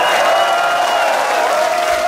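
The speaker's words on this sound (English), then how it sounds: "Give yourselves a round of applause." A concert crowd at a show applauds and cheers in a dense, loud wash of sound, with a sustained tone ringing over it.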